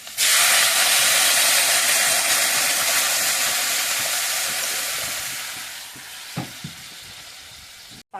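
Jute leaf chops sizzle loudly in hot oil, a dense steady frying hiss that slowly fades, with a couple of brief clinks near the end.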